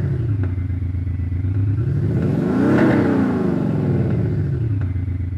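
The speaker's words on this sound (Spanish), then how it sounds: "cómo queremos que cuando aceleremos se oiga, el sonido dinámico y el sonido de motor" A Range Rover Evoque engine revs up and falls back in a smooth, rising then easing sweep with a steady mid-pitched growl, loud and close with no talk over it.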